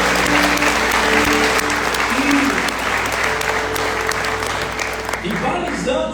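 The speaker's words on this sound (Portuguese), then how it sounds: "Você pode aplaudir Jesus bem forte," A church congregation at a Monday evening worship service applauds loudly and steadily for several seconds, a dense wash of clapping that thins out near the end while a voice talks over it.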